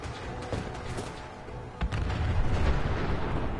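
Gunfire from a pistol in the Fallout 4 video game: a few sharp shots spread across the moment, set over rumbling, booming combat noise that turns heavier near the end.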